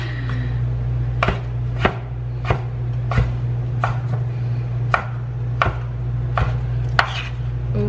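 A knife chops through meat on a cutting board in a home kitchen, about a dozen sharp, evenly spaced knocks close by, over a steady low hum.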